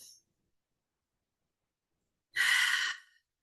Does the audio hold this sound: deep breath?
yes